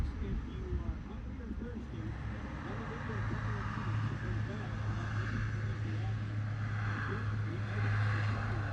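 A brand new Lockheed C-130 Hercules built in 2021 drones at an air show, its propeller rumble swelling gradually beneath an announcer's ongoing commentary.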